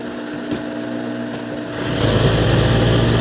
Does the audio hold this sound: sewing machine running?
yes